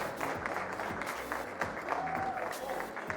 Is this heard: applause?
yes